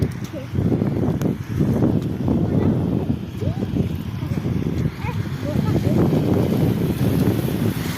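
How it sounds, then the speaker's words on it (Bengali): Steady outdoor wind rushing and buffeting by a riverbank in the rain, loud throughout, with people talking faintly in the background. "এ তো বাতাস দিচ্ছে"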